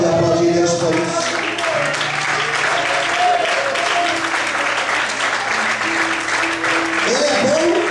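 Church congregation applauding together in sustained, dense clapping that stays loud throughout, with a voice and some musical tones running underneath.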